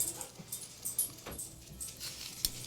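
Dogs that have just been let outside, heard as faint, scattered whimpers and short vocal bursts against quiet indoor background, with a few light jangling clicks.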